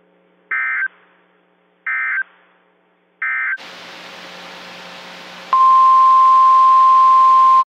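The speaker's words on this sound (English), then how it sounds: "This concludes the weekly test of the NOAA weather radio warning alarm and emergency alert system" Three short electronic beeps are followed by a burst of static, then a loud, steady single-pitched alarm tone that holds for about two seconds.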